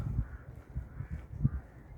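A few crows caw in rough bursts from above while flying, somewhat distant, over a quiet autumn park background.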